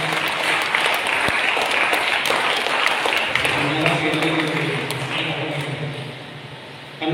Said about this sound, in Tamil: கைத்தட்டி சத்தமாக அவர்கள்